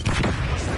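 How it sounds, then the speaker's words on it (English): A flashbang grenade goes off in Call of Duty Black Ops 6 hardcore domination, a loud, sustained, broadband blast filling the whole brief moment. "Flashbang."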